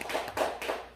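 A congregation clapping in a church setting, a short burst of a few claps from several hands, close and fairly loud.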